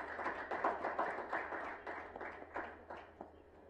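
An audience at a bank's media launch event claps, producing a steady patter of hand claps that rises and gradually thins out over a few seconds, with no talk over it.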